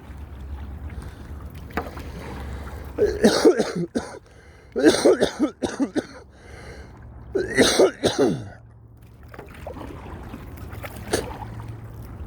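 Several harsh, throaty coughs come in short clusters, with quiet pauses between the bursts and faint background noise.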